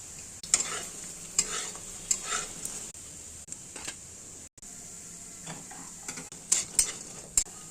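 Radish leaf fritters frying in a wok, a quiet steady sizzle of oil with repeated sharp scrapes and clinks of a spatula stirring, no talking.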